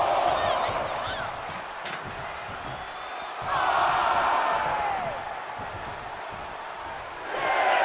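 A wrestling arena crowd in the WWE 2K24 video game cheers and roars in surging waves under steady commentary talk, swelling loudly around the middle and again at the end.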